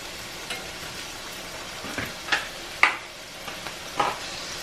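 Garlic butter sizzling in a pan for a homemade chicken Alfredo sauce, a steady close frying hiss punctuated by several sharp pops and crackles, no talking.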